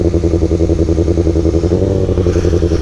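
A drift car's engine idles with a rough, pulsing burble and rises slightly in pitch toward the end, close and loud, with no voices.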